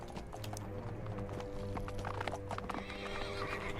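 Horses in the video game Fallout London whinny loudly while their hooves clop steadily over the ground, layered with a continuous game soundscape and faint mechanical clicking, with no voices.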